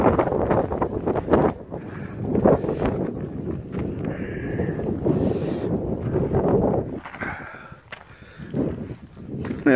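Strong gusting wind on an exposed mountain hiking trail, buffeting the microphone in rough bursts, close and loud throughout, with a few brief rustles mixed in.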